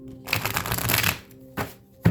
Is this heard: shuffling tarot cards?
yes